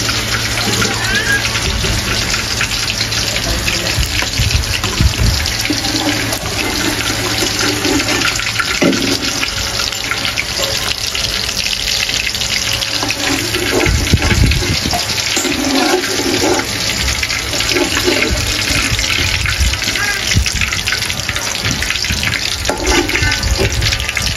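Dense, loud hissing roar of hilsa fish frying in oil, steady throughout, with occasional clatter and a faint voice underneath.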